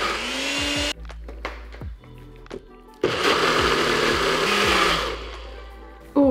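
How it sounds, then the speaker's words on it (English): Blender mixing coconut yogurt with maple syrup, a loud close motor whir that stops and restarts, with brief gaps and changes in pitch. "and blend it up."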